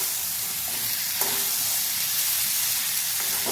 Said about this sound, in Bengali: কুমড়োটাকে ভালো করে নাড়াচাড়া করে ভেজে নেব